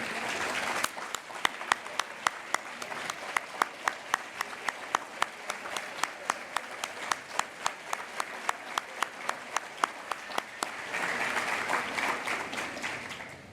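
An awards-ceremony audience stands to applaud mentors, family, teachers and friends: a sustained, fairly close wash of many hands clapping for about thirteen seconds, with a few sharper individual claps standing out and a brief swell near the end.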